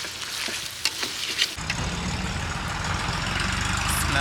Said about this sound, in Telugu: మసాలా, అల్లం వెల్లుల్లి పేస్టు, ఇది పచ్చి వాసన పోయేంత వరకు వేయించుకోవాలి